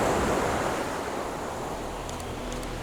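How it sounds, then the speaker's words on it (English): Ocean waves wash onto rocks and a beach in a steady, loud, broad roar with some wind noise, a continuous surging rush heard alone without any voices. "just waiting hopefully for some nice waves to hit the rocks and the beach"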